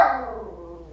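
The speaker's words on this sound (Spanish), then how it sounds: "Ella no para de ladrar" A dog gives a single bark that trails off into a fading, tonal whine, close and moderately loud, with nothing else around it.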